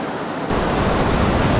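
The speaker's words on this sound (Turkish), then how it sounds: "Biraz dalgalı tabii ki. Dalga hep var." Sea waves wash onto a beach in Phuket, Thailand, a steady broadband surf roar, loud and close, swelling slightly after a moment with wind buffeting the microphone and no talk.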